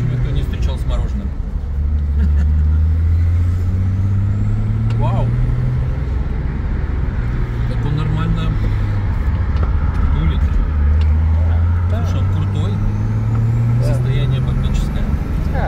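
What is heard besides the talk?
1982 Nissan Skyline Turbo car driving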